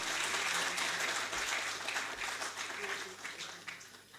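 Hall audience at a ceremony honouring Asian Games 2022 medal winners claps steadily in a dense, even wash of applause that holds for several seconds before easing slightly at the close.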